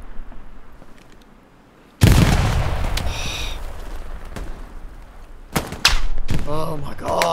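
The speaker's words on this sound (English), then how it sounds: "I threw a grenade." A grenade goes off in a multiplayer shooter match. A sudden loud blast breaks a quiet stretch, then scattered gunshots and sharp pops follow at close range, with faint voices underneath.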